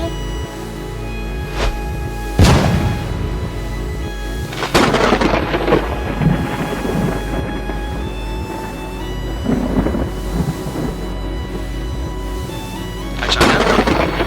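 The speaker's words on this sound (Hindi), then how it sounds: "कड़क की आवाज आई और पूरे घर में अंधेरा छा गया।" Loud thunder cracks and rolling rumbles over steady heavy rain, with a sharp close crack early and another building near the end.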